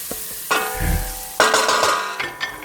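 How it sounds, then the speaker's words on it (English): Chopped onion fries in a pot for a cheese and tomato curry, with a spoon clanking and scraping as it is stirred. The sizzle lies under loud, irregular metallic knocks. "In goes the onion. Give it a stir."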